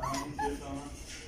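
A small puppy whimpers and yips faintly in short high whines, mixed with nearby voices and background noise.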